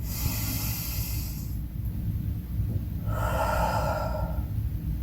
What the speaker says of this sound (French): Et une deuxième grande respiration.